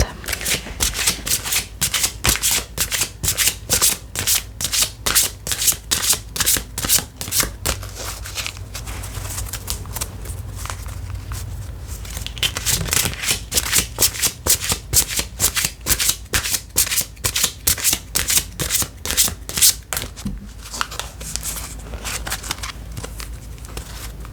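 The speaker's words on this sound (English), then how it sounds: "I'm gonna shuffle for a second and see if any more want to come out" Tarot cards being shuffled close up, a long run of rapid crisp riffling flutters with brief pauses, fairly loud and steady, with no talking.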